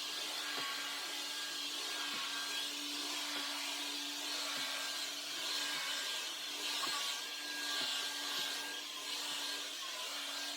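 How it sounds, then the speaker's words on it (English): A carpet cleaner makes dry passes over pet-stained carpet, a steady motor whine with faint rhythmic rubbing strokes repeating every second or two, heard alone. "I'm only pushing the trigger when I'm going forward and letting go as I pull back"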